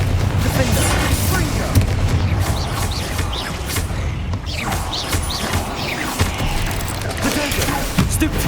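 Blasts of the Confringo fire spell in the video game Hogwarts Legacy, loud bursts over dense, continuous combat noise and rumbling ambience, with a voice talking in the background.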